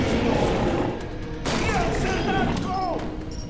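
Gunfire in the shooter game Metro Awakening, loud dense bursts and mechanical clanks mixed with whizzing effects, running continuously under excited voices.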